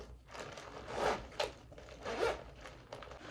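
A bag zipper pulled open in a few quick rasping strokes, close by and fairly quiet, with soft handling noise between pulls.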